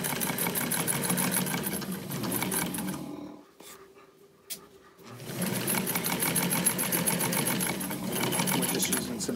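Sewing machine stitching ecru thread on a Christmas dress runs as a dense, steady mechanical whir, pausing briefly in the middle before resuming at the same pace.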